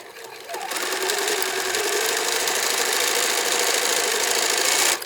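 A sewing machine runs steadily for several seconds, stitching pieces of fabric together at a quarter-inch seam with a fast, even mechanical chatter, close and continuous.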